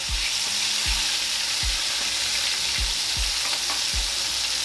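Liver sizzles steadily in a pan while smothered liver and onions is cooked, a loud continuous hiss with a few soft low knocks of the pan or utensil recurring roughly every second, no voices.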